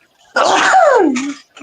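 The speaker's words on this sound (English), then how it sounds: "Bless you. I don't know who sneezed." One sudden, loud sneeze from a person nearby, a sharp burst that slides down in pitch and then stops, with quiet before and after.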